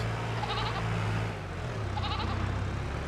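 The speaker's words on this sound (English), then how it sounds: "Goats and ducks and chicklings, little baby piglets." Goats bleat twice at a farm in Farming Simulator 22, each call short and wavering, standing out over a steady low engine-like hum and rustling background noise.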